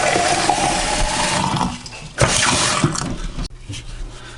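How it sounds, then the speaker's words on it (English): Well water running from a tap into a container, a steady rushing flow that cuts off and restarts partway through, close and fairly loud. "So I just will fill this up about halfway. It's just a little test. I'll turn the water on."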